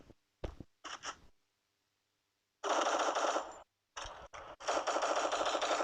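Bursts of automatic gunfire in the shooter video game Free Fire, a few short volleys followed by two longer sustained rapid-fire streams with brief gaps, loud and close.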